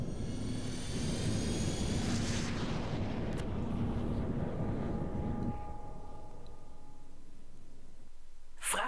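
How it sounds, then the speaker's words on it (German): Jump drive engaging in the space game X3: Terran Conflict, a deep rumbling roar with a rising whoosh that slowly fades into a thin hum, ending in a sharp bright burst. "Sprungantrieb wird geladen."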